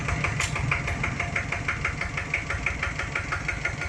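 A Kubota ZT100 diesel engine idles steadily close by, its rapid knocking pulse even and unbroken throughout, with no voices.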